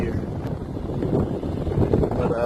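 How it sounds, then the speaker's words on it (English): Strong wind buffeting the microphone outdoors beside a 2016 Ford Focus ST under rebuild, a continuous loud rumbling roar with gusty fluctuations, partly under someone talking. "It's pretty windy out here"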